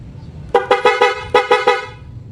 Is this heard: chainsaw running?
no